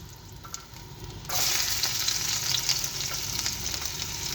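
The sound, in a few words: garlic frying in hot cooking oil in a frying pan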